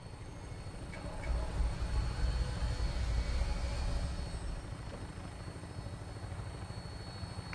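Vertibird aircraft from the video game Fallout 4 lifting off, a steady rotor-like drone with a low rumble that swells in the first seconds and then holds at a moderate level.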